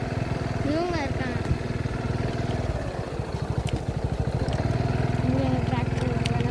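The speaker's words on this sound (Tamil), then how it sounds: "இன்னும் டிராக்டர் ஓட்டிகிட்டு இருக்காங்க." A tractor engine running on a farm, a close, steady rhythmic chugging drone that continues throughout beneath people talking.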